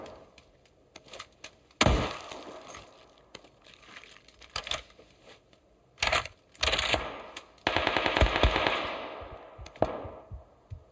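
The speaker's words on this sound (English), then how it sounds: "Somebody's shooting at me from up here." Bursts of gunfire in the battle royale game PUBG, sharp loud clusters of rapid shots separated by pauses, with one longer sustained burst toward the end, no talking.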